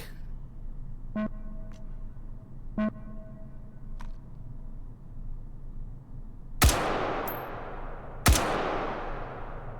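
Two sharp, loud gunshots from a gun fitted with an EOTech holographic sight in the VR shooter H3VR, spaced about two seconds apart, each ringing out briefly after earlier faint metallic clicks.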